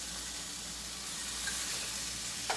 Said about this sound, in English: we're going to go ahead and add 1 pound of hamburger ground beef into our skillet